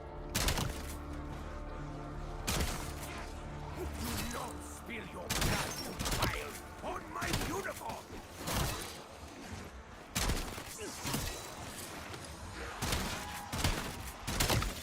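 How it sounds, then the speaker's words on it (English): A shotgun fires repeatedly in Call of Duty: Black Ops zombies mode on the Ashes of the Damned map, with sharp blasts at irregular intervals among other game sounds and a voice talking. "It is a shotgun."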